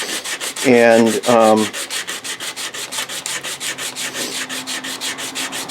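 A 60-grit belt sander grinds an O-1 tool steel knife blade with a steady rasping whir under rhythmic pulsing, and a short voiced hum breaks in near the start.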